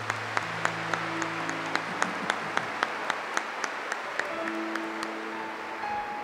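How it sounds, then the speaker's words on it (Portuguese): A church congregation applauds at a Catholic Mass, many hands clapping together in a sustained, even burst that fills the room, with a single sharp rhythmic clap cutting through at regular beats above the crowd. "Pode aplaudir a palavra do Senhor."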